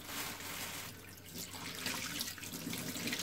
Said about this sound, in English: I need to wash my hand.